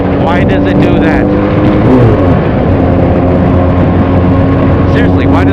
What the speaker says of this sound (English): why does it rev like that when I let go of the